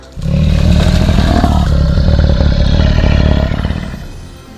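A Volvo excavator works outdoors, its engine roaring up loud and close with clattering and scraping over several seconds before the noise gradually fades.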